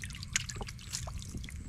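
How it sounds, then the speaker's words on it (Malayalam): Cold, clear stream water splashed and scooped while washing a face in a rocky gorge, soft irregular trickles and small splashes close by over a low steady background rush. "എന്തായാലും ഞാൻ മുഖം കഴുകാൻ പോവാണ്"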